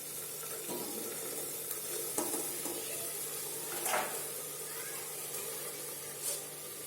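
Tender cluster beans (guar), strings removed, go into a hot pan for a home-style gavar sabji, giving a quiet, steady sizzle with a few soft clinks and scrapes of a utensil.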